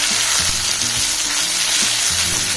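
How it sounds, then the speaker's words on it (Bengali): Onion and green chilli paste frying in hot oil and being stirred in a pan for a Pangas fish curry, a steady loud close sizzle with repeated scraping stir strokes throughout. "ভালো করে নেড়ে তারপরে আমি পেঁয়াজ, কাঁচা লঙ্কা বাটা দিয়ে দেবো।"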